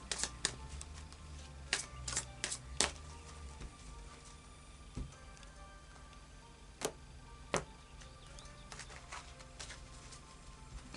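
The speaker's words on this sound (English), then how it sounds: "let's just do a final shuffle for you" Oracle cards being shuffled and tapped, with scattered sharp snaps and soft rustling over a low background hum.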